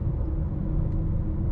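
A 2019 Mazda CX-9 Sport accelerates quietly, a soft steady low rumble of engine and road noise inside the cabin, without any voices.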